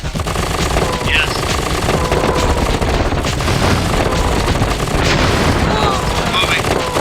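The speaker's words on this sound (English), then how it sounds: "So they have rotary cannons, so they have Gatling cannons." Rotary Gatling cannon fire in the real-time strategy game KKND, a loud, continuous rattling barrage of rapid shots with booming impacts mixed in, sustained across the whole stretch.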